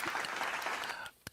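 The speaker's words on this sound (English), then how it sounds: "Let's get a round of applause for Psycho Lover and birthdays." A roast-show audience bursts into applause and cheering for a birthday, a dense, steady crackle of many hands that stops abruptly near the end, leaving a lone voice afterward.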